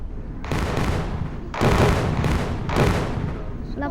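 Explosions in a police station video game: three loud, close blasts about a second apart, each with a sharp burst and a rumbling decay.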